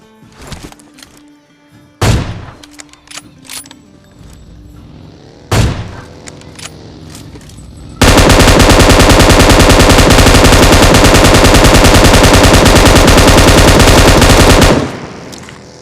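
Gunfire in a shooter video game: two loud single shots, one of them an AWM sniper rifle, followed by a long, continuous burst of rapid automatic fire that stops abruptly.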